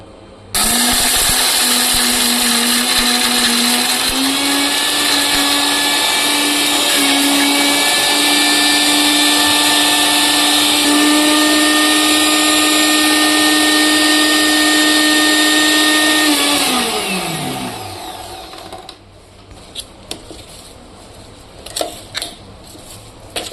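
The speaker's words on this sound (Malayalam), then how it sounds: "എനിക്ക് ഇപ്പൊ നമ്മളെ മിക്സി ഓണാക്കാൻ പോവാണ്" A green kitchen mixer grinder whirs loudly and steadily, grinding dried prawns and coconut into chutney; the motor pitch holds almost constant, then winds down near the end, followed by a few faint handling clicks.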